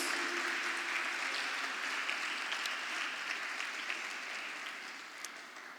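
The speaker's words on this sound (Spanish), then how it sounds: "Pero denle el aplauso en serio" Church congregation clapping for two little twin girls, a sustained crowd applause in a large room that stays even throughout and tapers slightly toward the end.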